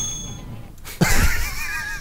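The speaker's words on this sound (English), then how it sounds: "Put the tray down, ring the bell, and hide." A service bell rung in the Hitman: Contracts video game, a single bright ding after a short quiet gap, ringing out clearly over a faint game background.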